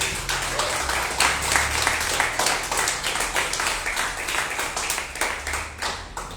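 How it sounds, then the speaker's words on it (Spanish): A church congregation at a Sunday service applauds loudly, a dense, sustained wash of many hands clapping together with a low hum beneath, continuing evenly for several seconds. "Dale un aplauso fuerte al Señor."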